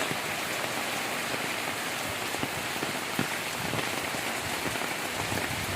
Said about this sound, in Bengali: এমন বৃষ্টি হয়েছে বন্যা সৃষ্টি হয়েছে